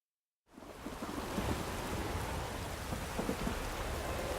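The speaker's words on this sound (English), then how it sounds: "Rain doesn't bother you, it seems." Rain and thunder in the video game The Witcher 3: Wild Hunt: after a moment of silence, a dense, steady downpour hisses with low thunder rumbling beneath it.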